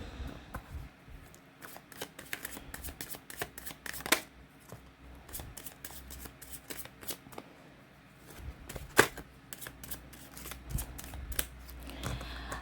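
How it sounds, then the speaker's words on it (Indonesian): Tarot cards being shuffled by hand during a reading: a steady run of soft, papery riffling and flicking with a few sharper snaps, fairly quiet and close, with no talking. "saya kocok kartunya"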